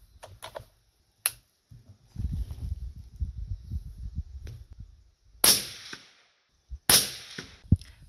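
Gunshots ring out in a forest at a 100-meter range, a few sharp, loud reports spaced seconds apart, separated by quieter rustling and handling noise.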